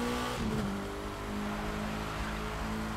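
A Ferrari FXX K supercar in The Crew 2 video game accelerates hard, its engine a loud, steady roar that holds across the whole moment with no talking.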